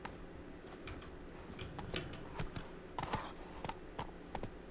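Horse hooves clip-clop at a steady gallop in The Witcher 3, a rhythmic run of close, moderately loud hoofbeats with faint ambient game sound beneath.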